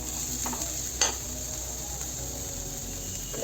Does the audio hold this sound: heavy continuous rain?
no